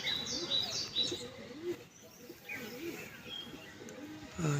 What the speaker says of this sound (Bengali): পায়রাগুলো উঠছে কিছু পায়রা কেটে কেটে উঠছে